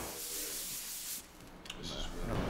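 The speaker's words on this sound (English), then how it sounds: "sanding." Sanding on a plaster surface makes a close, continuous abrasive rubbing and hissing noise, briefly easing in the middle and then picking up again.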